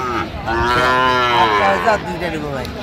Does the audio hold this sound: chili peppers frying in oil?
no